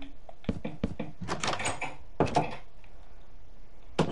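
Modded drawer blocks being moved and placed in Minecraft, heard as a quick run of close, dry wooden knocks and clacks, one dense burst of several, then another short cluster and a single final tap.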